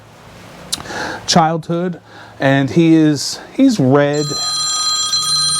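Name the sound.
telephone ringer ringing for an incoming phone call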